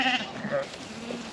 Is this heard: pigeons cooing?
no